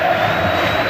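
Vasco supporters roar and chant continuously at the Maracanã during a 1998 Brazilian league match against Flamengo, a dense, loud, steady crowd wash filling the stadium.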